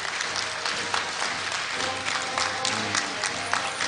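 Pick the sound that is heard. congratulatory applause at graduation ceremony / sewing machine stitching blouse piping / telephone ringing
congratulatory applause at graduation ceremony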